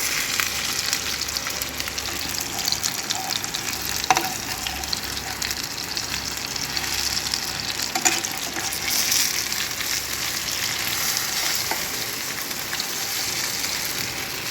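Kerala hotel-style fish fry, fish coated in rice flour and frying in a pan over a medium flame, gives a steady, close, dense sizzle with scattered crackles that runs unbroken throughout, with no talking.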